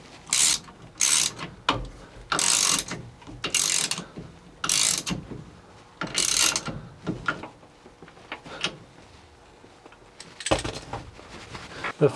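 Ratchet tightening the steering wheel nut on a 1960–66 Chevy C10 pickup, heard as several bursts of rapid clicking pawl strokes separated by short pauses, close and fairly loud with no talking.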